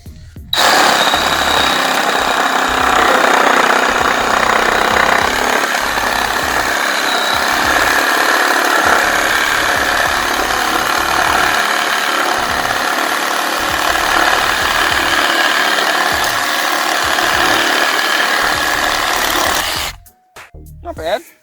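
Cordless Milwaukee Hackzall 2420-20 reciprocating saw cutting through a clamped 2x3 length of wood, a loud continuous buzzing rattle lasting about twenty seconds before stopping abruptly, heard up close.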